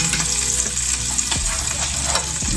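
Salmon frying in a cast iron pan, a loud, steady sizzle with occasional crackles and spatters, close up and continuous, no talking.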